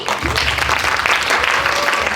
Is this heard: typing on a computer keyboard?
no